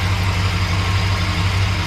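1968 Chrysler Newport engine idling steadily with a low, even rumble, heard close and alone with no voices over it.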